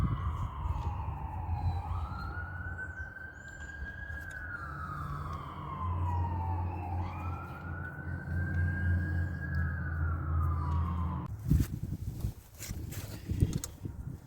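A police siren wails outside, rising and falling in long sweeps as it passes at moderate distance over a low engine rumble, then cuts off and gives way to nearby clattering handling noises.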